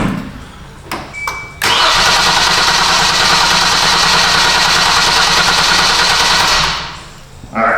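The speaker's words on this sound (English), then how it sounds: "All right, let's light this candle." A Kia car engine cranks at length without catching, a loud steady starter churn that begins after a couple of clicks, runs for about five seconds and then fades off.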